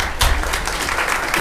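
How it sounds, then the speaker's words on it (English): Brief burst of audience applause at a county board of commissioners meeting, a room of people clapping steadily for about a second and a half. "Let's give him a round of applause."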